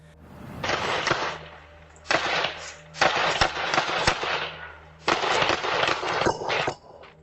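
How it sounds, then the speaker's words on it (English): Bursts of rapid gunfire recorded by a Ring doorbell camera near apartments crackle in several rounds separated by short pauses, sharp repeated cracks with a distant, slightly muffled outdoor quality. "The recording picked up more than 10 gunshots, and then, seconds later, more gunfire followed"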